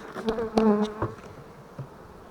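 Honey bees buzz at a hive during work to strengthen a colony with swarms, with a few close, loud passes of buzzing that fade into a quieter hum.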